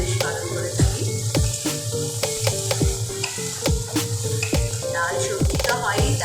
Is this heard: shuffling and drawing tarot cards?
no